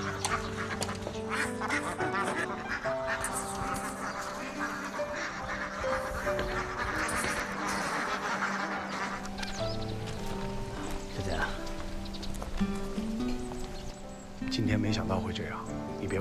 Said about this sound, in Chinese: 帮我喂鸭子吧